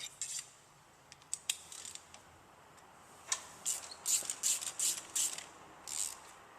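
A ratchet tightens a spark plug on a 1997 Ford Escort, making faint, sparse clicks early on, then a quicker run of crisp ratcheting strokes in the second half, with no talking.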